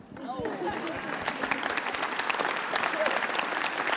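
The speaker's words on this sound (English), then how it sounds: "I'd like you really to join me in a round of applause" An audience applauds at a conference session, steady clapping from many hands that swells slightly and carries on throughout, with faint voices mixed in near the start.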